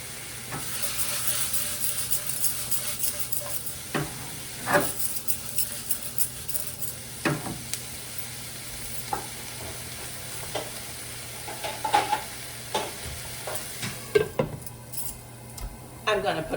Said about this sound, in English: I'm gonna let this simmer in our grapeseed oil